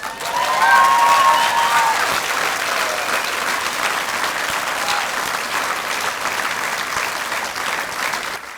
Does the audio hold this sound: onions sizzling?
no